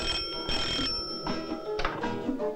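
A telephone rings in a hotel, a steady, bright electric bell that keeps going for the whole stretch over faint background sound, with no speech.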